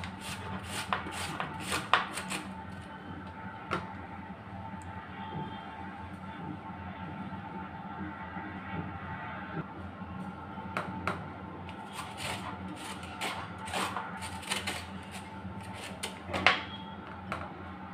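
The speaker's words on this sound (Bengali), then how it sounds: "গ্রেটারের এই বড় ছিদ্র দিয়ে এই আমগুলো লম্বা লম্বা করে গ্রেট করে নেব।" Raw green mangoes grated into long strands on the large holes of a box grater, giving bursts of quick scraping strokes near at hand, pausing in the middle and then resuming, with no talk.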